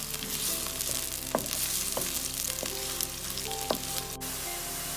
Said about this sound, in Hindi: प्याज को तब तक पकाना है जब तक ये ब्राउन होते हैं